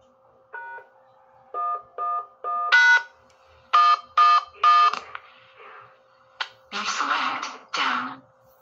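A sequence of clean electronic telephone keypad tones, single and clustered beeps in uneven rhythm, remotely controls a talking ham radio repeater through a Zello interface, followed by a burst of synthesized voice response near the end.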